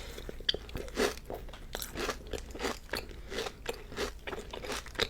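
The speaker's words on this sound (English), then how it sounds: "Let's have a chocolate cookie. The cookie dipped in chocolate syrup is so amazing." Crunchy chocolate-dipped cookie, coated in chocolate syrup, is bitten and chewed close to the mic, giving repeated crisp crunches in a loose rhythm with brief crackly pauses between bites, no talking.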